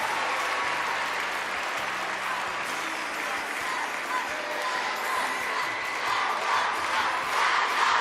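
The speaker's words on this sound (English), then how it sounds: "Carlotta Ferlito moved to tears by the reception she has received from the crowd here" Crowd applause and cheering fill a gymnastics arena after a woman's artistic gymnastics apparatus final routine, a loud, dense, sustained roar that holds steady for the full stretch with no speech.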